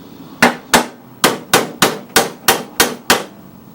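Hammer on a dolly reshaping the sheet-metal body of a Husqvarna 7021P lawn mower: nine sharp, ringing metallic strikes at a steady, even pace, close and loud, with no talking.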